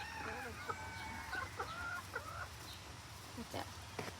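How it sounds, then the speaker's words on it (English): A chicken on a farm gives odd, broken clucking calls that rise and fall several times over steady outdoor background noise, close and moderately loud, with a few sharp squawks near the end. "that chicken's making a weird noise"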